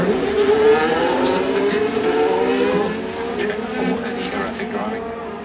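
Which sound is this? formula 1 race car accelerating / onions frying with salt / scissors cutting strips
formula 1 race car accelerating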